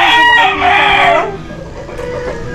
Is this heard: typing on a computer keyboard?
no